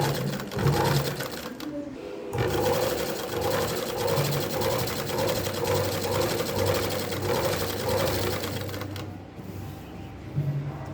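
A sewing machine stitches a zigzag seam along a saree, running steadily and close with rapid rhythmic needle pulses, pausing briefly near the start and end.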